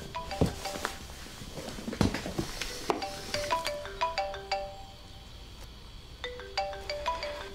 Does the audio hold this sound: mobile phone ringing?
yes